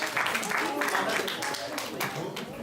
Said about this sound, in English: Give a round of applause to Riva.